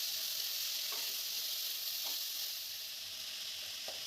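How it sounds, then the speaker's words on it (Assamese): Potatoes fry in a pan in a home kitchen with a steady, close hiss of oil, and a few faint clicks of stirring come through during it. "এতিয়া আলু ভাজিব লৈছোঁ।"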